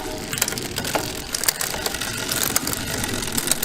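Road bike gears shifting up and down on a work stand, giving a rapid run of crisp, close ratcheting clicks with a steady mechanical whir underneath.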